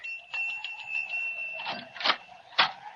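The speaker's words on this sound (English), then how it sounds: "There's a bell, Jimmy" A small bell rung by hand indoors: a few bright, close dings, the last two strikes loudest, with no talking over them.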